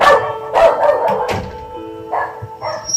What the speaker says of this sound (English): Sorry about the barking in the background.